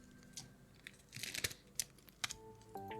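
Scissors snip through Yu-Gi-Oh Duelist Advance booster pack packaging, giving a few sharp crinkling cuts and tearing rustles in quick bursts, close and fairly quiet with no talking.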